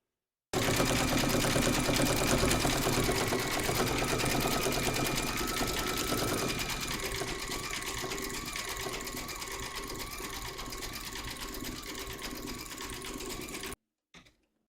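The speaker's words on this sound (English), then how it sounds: "Load your matching bobbin and thread colour for the quilting on the bag into your machine, and then stitch round number 3" Embroidery machine stitching hot pink quilting on an Easter treat bag, a loud, continuous rapid needle chatter that runs unbroken for over ten seconds before stopping abruptly, with a faint click afterwards.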